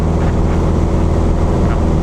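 A small training airplane's engine runs at full throttle for the takeoff roll, a loud, steady, unbroken drone with wind rushing over it throughout.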